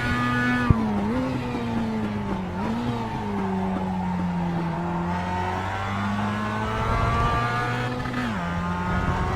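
Mazda race cars lapping Laguna Seca in the iRacing sim, a dense pack of engines droning and shifting pitch through the corners, with brief tire squeal, loud and continuous throughout.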